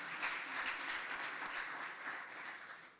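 Audience applause for a brother in prison at a Christian talk, a steady, fairly faint wash of clapping from a crowd that holds for the full span and thins slightly at the end.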